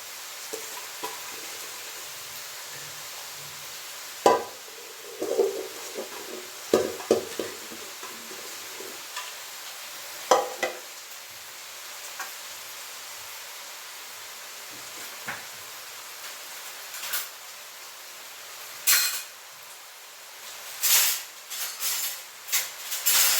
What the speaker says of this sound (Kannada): ಎಣ್ಣೆನಲ್ಲೇ ಸ್ವಲ್ಪ ನಾವು ಹಾಗೆ ಫ್ರೈ ಮಾಡ್ತಿದ್ದಂಗೆ ಸೊಪ್ಪೆಲ್ಲ ಬೆಂದ್ಕೊಳ್ಳುತ್ತೆ